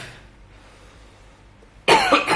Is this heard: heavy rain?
no